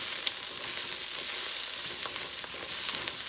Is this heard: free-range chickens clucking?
no